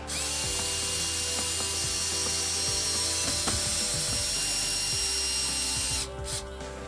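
Power tool driving the last few screws into garage door hardware, a steady ratcheting drill whir with repeated clicking bursts that runs continuously before cutting off near the end.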